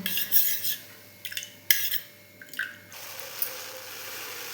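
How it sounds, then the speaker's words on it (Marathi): Water is poured into diluted vinegar while making rasmalai in a home kitchen, giving a close, trickling pour with light clinks and scraping between splashes, then a steady soft flow at the end. "इथे मी पाणी ओतत आहे"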